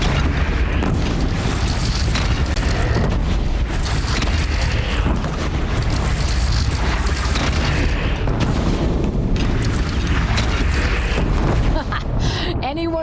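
Booming cannon fire from bandits in the Horizon Zero Dawn video game, loud and continuous with heavy low rumble and repeated blasts layered over battle noise and talk.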